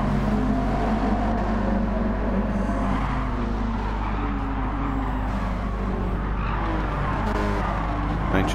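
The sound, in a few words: race cars on track in Gran Turismo 7 video game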